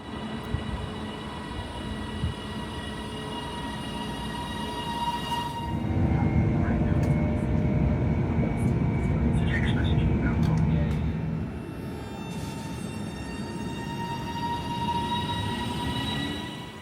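A Northern passenger train on the Airedale Line toward Leeds, England, rumbles along steadily with a low mechanical roar that swells in the middle, accompanied by faint rattling and a steady tonal hum.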